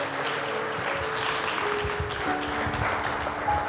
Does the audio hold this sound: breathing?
no